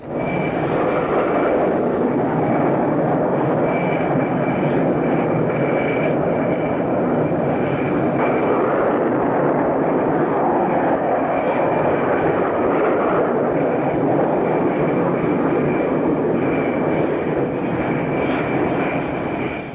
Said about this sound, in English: This launch sequence continues with up to 4 aircraft dispatched almost simultaneously.